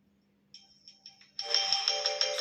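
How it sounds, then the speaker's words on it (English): A Samsung Galaxy M13 phone ringtone starts with a few soft beeps, then swells into a loud, bright repeating melody with no voices. "your phone ringtone will change into pick it up"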